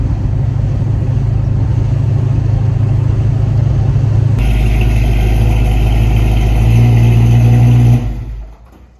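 A Mopar muscle car engine runs close by with a deep, loud idle rumble that steps up in pitch and intensity about halfway through, then cuts off abruptly near the end, with no talking.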